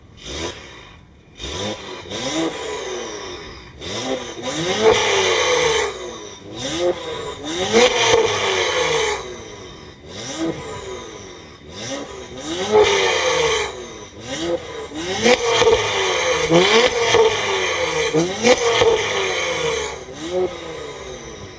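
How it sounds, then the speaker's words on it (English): An Acura TLX Type S engine revs repeatedly, rising and falling in loud, raspy bursts from a throaty, fully catless exhaust with its valves closed, each climb followed by a drop back to idle. "let's see how it sounds with the exhaust valves closed with a fully catless setup"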